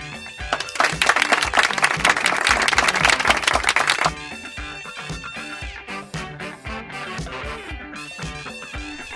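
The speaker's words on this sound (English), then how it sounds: "Clapping hands." Hands clap in a dense burst of rapid, loud claps for about four seconds, then continue more sparsely and quietly with mixed background sound.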